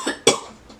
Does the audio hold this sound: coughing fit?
yes